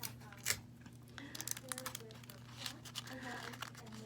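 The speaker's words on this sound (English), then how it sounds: "We're going to squish it flat and then tape it on." A paper piece for a craft butterfly is squished flat, giving soft crinkling and crumpling rustles in close, quiet bursts over a low hum.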